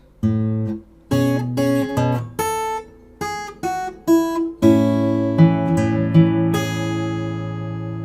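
Fingerpicked acoustic guitar plays a short sequence of separate plucked notes, then settles into a ringing chord with a few more notes picked over it.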